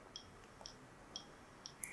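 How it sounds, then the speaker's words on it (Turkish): Arduino buzzer module on a Pinoo board beeping on and off: short, faint, high beeps about every half second in a quiet room. "Buzzer'ımızdan kesik kesik ses çıkıyor."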